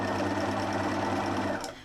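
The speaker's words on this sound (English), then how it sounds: "I'm just going to do a quick running stitch with some variegated thread around the middle house" A sewing machine sews a running stitch with variegated thread on a beach hut pouch: a loud, close, steady motor whir with rapid stitching pulses that slows and stops just before the end.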